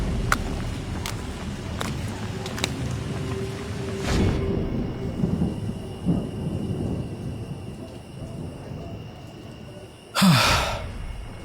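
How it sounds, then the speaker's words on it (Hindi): Unseasonal rain pours steadily over a village while low thunder rumbles throughout, ending with a loud, close crack of thunder. "ऊपर से ये बेमौसम बारिश"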